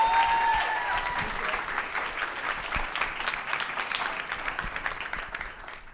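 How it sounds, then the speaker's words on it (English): Applause from a tech-community audience at a Techqueria event, a full round of clapping that starts strong and gradually thins and fades out, with no speech over it. "a big round of applause to Gabrielle Cardoza"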